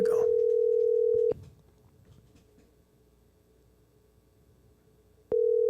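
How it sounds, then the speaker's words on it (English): A telephone ringback tone sounds on an outgoing call: a loud, steady electronic tone lasts just over a second, then there is a long quiet gap before the next tone begins. "All right, it's ringing."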